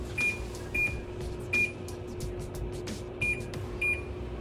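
A kitchen timer on the oven chirps in short, sharp single beeps at uneven intervals over a low steady appliance hum, faint and close.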